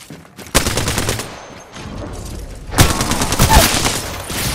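Loud video game gunfire in a shooter match: sharp shots and rapid bursts of automatic fire, close and dense, with brief lulls between volleys.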